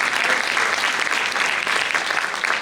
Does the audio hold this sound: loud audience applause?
yes